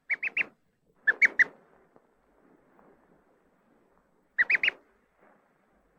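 A duckling imprinted on a toy parent gives calm peeping: short clustered bursts of three or four high chirps, separated by quiet gaps, close and clear with faint background noise.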